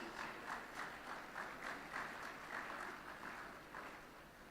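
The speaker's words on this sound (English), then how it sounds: "Can we again have a huge round of applause for these eminent personalities?" An audience at the R.I.D.E. 2024 research and innovation event gives a round of applause, a steady wash of many hands clapping heard from a distance and easing slightly toward the end.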